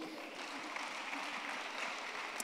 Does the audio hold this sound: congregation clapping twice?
yes